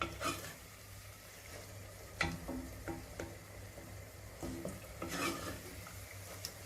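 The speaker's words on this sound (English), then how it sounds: "just give that a good mix" A spoon stirs tomato sauce through cooked vegetables in a pan for a low-protein vegetable pasta bake, making scattered scraping knocks and soft wet clatter over a low steady background hum, with no voices.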